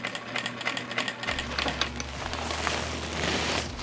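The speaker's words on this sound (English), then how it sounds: "why not just use the sewing machine and stitch it up?" A Vevor industrial sewing machine stitches a double-layered ribbon tutu in rapid bursts of mechanical clatter, with a motor hum that shifts pitch as the machine runs, close and fairly loud.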